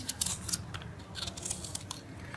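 A knife slices the green part off pieces of fruit while making homemade tutti frutti, giving soft, quiet crisp cuts in a few quick strokes with no voice over them.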